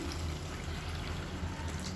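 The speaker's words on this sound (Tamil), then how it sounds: "இதில் வந்து நல்லா இப்போ 1 டம்ளர் அளவுக்கு தண்ணி சேர்த்துக்கலாம்." Hot water poured from a tumbler into a pan of sautéed tomato mixture cooking in oil, a soft steady stream of liquid that runs continuously and fairly quietly throughout.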